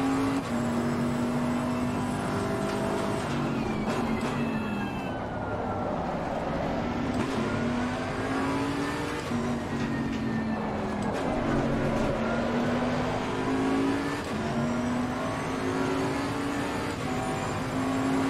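A race car engine in the racing game Assetto Corsa Competizione drones loudly and climbs in pitch through repeated accelerations, a continuous dense roar with other cars audible around it.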